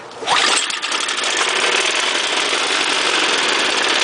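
Cold Ariens snow blower engine, primed twice and started without choke, catches abruptly and settles into a loud, steady, close-up running roar.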